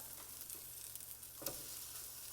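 Beef patties sizzle steadily in a stainless steel pan, a constant close-up frying hiss with a few small pops and no talking.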